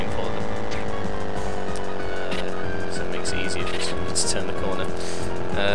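A car driving around a test track in the video game Lego Racers, a sustained engine whine with tire squeals and skids, heard under a person talking throughout.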